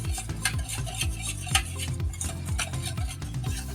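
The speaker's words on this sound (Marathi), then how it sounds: "याला असं आपण फिरवून घेऊ, एकजीव करून टाकू याला" A milk mixture for muskmelon kulfi is stirred briskly in a metal pot to break up lumps, with a utensil scraping and clinking in a steady repeated rhythm, close and with no voices.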